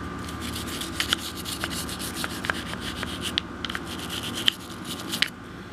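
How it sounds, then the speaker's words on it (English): A small cleaning brush scrubs inside a firearm in a steady run of close, dry, rasping strokes, with a few sharper scratches standing out. "I'm going to go ahead and hit some of the stuff down in here with my smaller brush"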